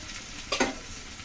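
Cauliflower and potato frying with egg in a pan give a steady background hiss, broken by a brief burst of stirring and scraping near the middle; no voices.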